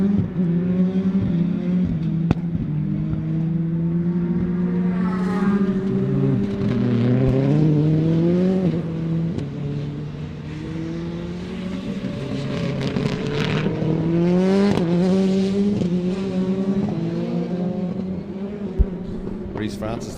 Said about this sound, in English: Ryan Castro out onto the straight, pulling gears.